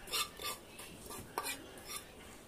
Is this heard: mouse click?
no